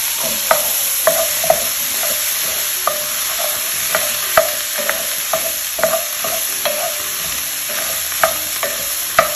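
Onions and carrots cook over medium heat for Cuban oxtail stew in a STAUB pot, a loud steady sizzle punctuated by frequent sharp knocks and scrapes of stirring, with no voices.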